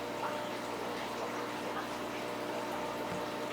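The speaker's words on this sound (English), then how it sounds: "I'll take water from the aquarium and I'll fill it up" Aquarium water poured into a plastic Tupperware container gives a steady broadband gush and trickle of liquid, continuous and close, with no talk over it.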